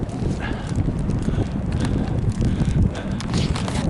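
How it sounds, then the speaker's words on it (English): Strong wind buffets the microphone outdoors near a railway, producing a loud, continuous low rumble with gusty thumps throughout. "it's very, very windy"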